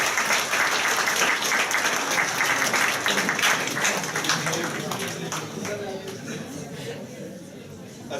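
An audience claps at the close of a question-and-answer session on the European Union, dense sustained applause that gradually thins and fades over several seconds.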